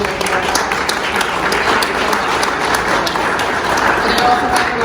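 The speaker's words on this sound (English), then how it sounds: "Please give a round of applause to our great commissioner." An audience claps for a commissioner at a formal public occasion, producing sustained, dense applause at fairly close range that stays even throughout, with no voice rising above it.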